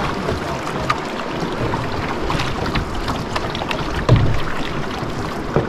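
Canoe paddling on a wilderness river, with steady water sloshing and wind buffeting the microphone throughout and a brief louder splash near the end; no talking.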